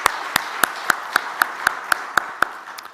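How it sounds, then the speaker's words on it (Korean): A church congregation at a Sunday service applauds the elders with a steady, sharp run of rhythmic claps, roughly four per second, close and fairly loud, with no speech. "우리 수고하신 장로님들 위해서 박수 한번 날까요?"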